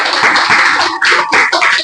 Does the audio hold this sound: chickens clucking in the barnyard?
no